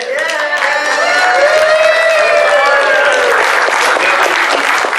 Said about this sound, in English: Like so scattered clapping. Let's clap.